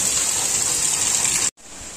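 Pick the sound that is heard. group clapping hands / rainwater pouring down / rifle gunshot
rainwater pouring down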